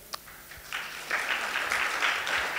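Light applause from a small audience rises after a brief start, building into steady clapping of moderate loudness.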